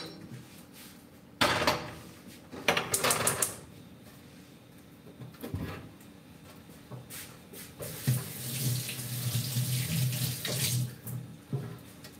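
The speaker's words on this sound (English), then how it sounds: "I do wash cast iron." A cast iron pan being washed under a running kitchen tap, with bursts of splashing water and clunks of the pan in the sink, then a steadier stream near the end.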